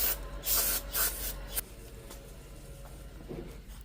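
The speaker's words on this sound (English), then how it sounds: "this 3M Rolex bristle disc is awesome for cleaning stuff like this" A 3M bristle disc on a power tool scrubs a thermostat housing on an E36 M3, giving loud hissing bursts at first that fall to a faint steady whir.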